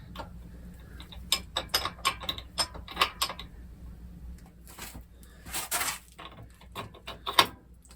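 A silver Hanevear folding bike pedal turned counterclockwise, giving a run of crisp mechanical ticks and clicks, quick bursts with a brief rattling stretch midway, close and fairly loud.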